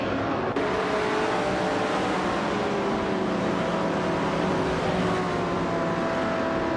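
Race cars, a 1969 Pontiac GTO among them, driving steadily with a continuous engine drone and rising and falling whine, loud and close throughout.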